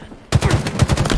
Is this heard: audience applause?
no